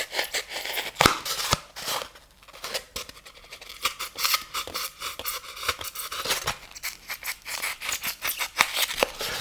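A foam shape is cut on a Proxxon hot-wire setup, giving close, scratchy, irregular snipping and scraping sounds that come in uneven bursts with brief lulls.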